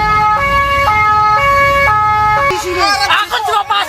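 A loud ambulance siren wails in a two-tone pattern, alternating steadily, then breaks off into a mix of traffic and street noise.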